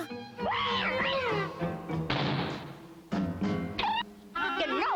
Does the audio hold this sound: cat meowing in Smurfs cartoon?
yes